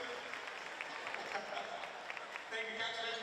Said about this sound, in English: Round of applause for Alex Bunsen coming on back to the Caps.